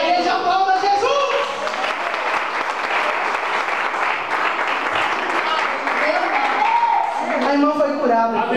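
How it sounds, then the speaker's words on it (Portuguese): A church congregation applauds Jesus after a woman's healing from arthritis, with loud, continuous clapping and cheering filling the room while voices shout and call out over it from start to end. "E a igreja aplauda Jesus."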